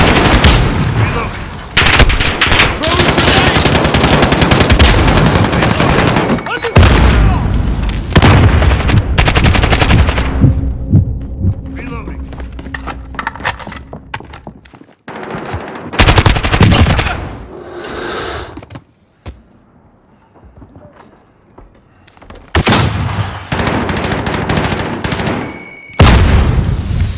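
Sustained automatic gunfire in Call of Duty: Modern Warfare, loud and near, with dense bursts of machine gun fire and booms broken by brief lulls across the stretch.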